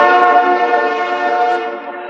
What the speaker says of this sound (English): I don't get trains that often